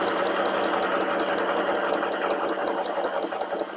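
A portable electric El Hogar sewing machine stitches a curve at a modest, steady speed, its rapid regular needle ticking and motor hum running continuously and fairly loud throughout, with no talk over it.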